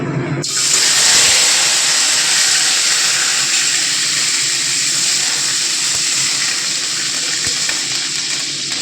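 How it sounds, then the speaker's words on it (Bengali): Chopped onion and garlic hit hot oil for tempering, bursting into a sudden loud, steady hiss of sizzling that holds for several seconds without talk. "এখন এখানে আমি ফোড়ন দেবো আগে পেঁয়াজ রসুন কুচিটা"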